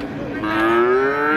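At the Jatirogo cattle market, where heifer calves are being sold, a single cow gives a long, loud, close moo that rises and holds steady.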